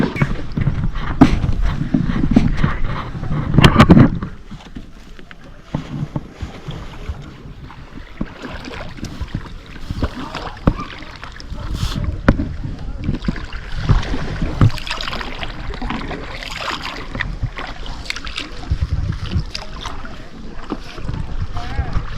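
A coracle ride on the river at Hogenakkal, with steady water and wind noise around the boat, occasional splashes and knocks, and voices talking now and then throughout.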